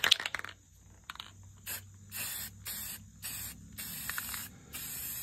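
Several short hissing bursts of a black spray paint can sprayed on a shed, one after another with brief pauses between, close and fairly loud.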